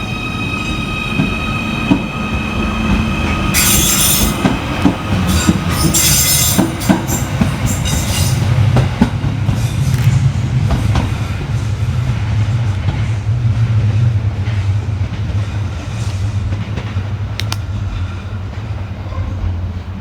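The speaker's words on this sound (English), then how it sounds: "Next to depart for the station is 777-025 with the 1552 Merseyrail electric service from Liverpool Central through to Chester." A Merseyrail Class 777 electric train pulls away from a station on the Liverpool Central to Chester service, with a steady rumble, wheel squeals, brief bursts of hiss and a rising electric motor hum.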